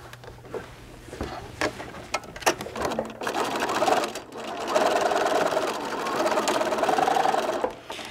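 A sewing machine stitches down the seam of a fabric dog poop bag holder, starting with a few short runs, then settling into a steady, close whirring hum that continues to the end.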